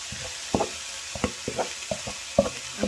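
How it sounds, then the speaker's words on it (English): Spinach goes into a pot of softened vegetables for a Congolese dish, giving a series of soft, irregular stirring clicks and scrapes over a faint background hiss, close and fairly quiet. "So in, I'm going to add spinach."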